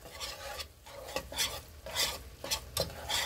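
Flour is stirred into melted butter in a pot to make a roux, with rhythmic scraping strokes of a spoon repeating about every half second over a faint sizzle, close and alone.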